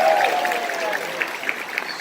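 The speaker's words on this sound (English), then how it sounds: "round of applause to the church for showing up." Audience clapping at a religious congress workshop opening, a dense, steady wash of many hands spread across a room, with a few sharper claps standing out near the end.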